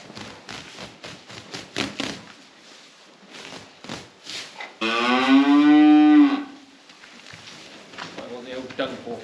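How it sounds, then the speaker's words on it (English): A cow on a family farm lets out one loud, drawn-out moo, near and clear, with people talking before and after it. "Right, cows."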